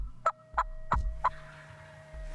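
Wild turkeys gobble during a spring hunt, four short rattling calls in quick succession, fairly faint over quiet outdoor background.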